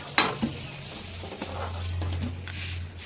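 Potatoes browning in hot oil for mutton biryani: a sharp clatter as they go in, then a steady close sizzle with a few stirring scrapes, with no talking.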